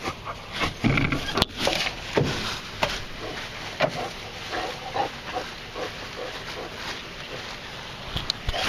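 A dog pants in rapid, uneven bursts while poking around near an aquaponics setup, close to the listener, with occasional sharp rustles and knocks mixed in.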